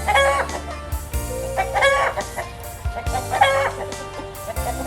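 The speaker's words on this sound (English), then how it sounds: "Now let us meet our hen family." Hens at a school animal farm cluck in repeated bursts, close and clear, with a steady background hum between the calls.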